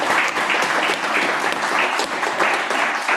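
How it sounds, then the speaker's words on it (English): A tech workers' meetup audience applauds, a dense, steady wash of many hands clapping together at close range that holds evenly from start to finish with no speech on top. "Well, another round of applause for Andrew"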